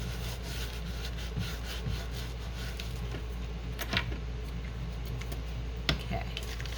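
A quick dry rub-down of a metallic lustre wax background gives soft rubbing and wiping strokes with a few small taps over a steady low hum, close by and without speech.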